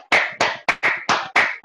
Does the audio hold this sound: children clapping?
yes